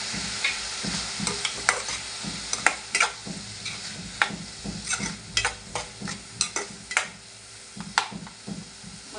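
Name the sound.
sautéing onion and tomato in a pan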